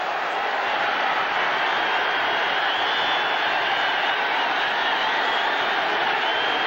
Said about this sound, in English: the crowd starts to get into this ball game